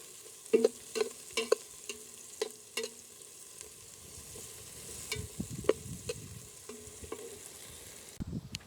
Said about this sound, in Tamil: கொஞ்ச நேரம் வெங்காயத்தை மடியாக போட்டு பொறிப்போம்